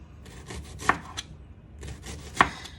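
A knife cuts through bell pepper on a board, giving two sharp, close chops with softer rubbing and shuffling sounds of the pepper being handled between them.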